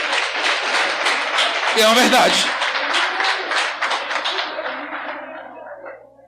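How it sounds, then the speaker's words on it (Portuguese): Audience in a church clapping in a salva de palmas, a dense steady applause that fades out gradually under a voice speaking over it. "Uma salva de palmas aqui"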